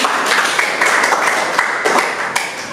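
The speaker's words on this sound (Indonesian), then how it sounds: "Beri tepuk tangan untuk kelompok kelas" A school class claps for a group of classmates in a classroom. The applause is steady and dense, with sharp individual claps standing out, and it continues for the whole stretch.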